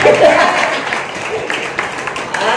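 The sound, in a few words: audience applause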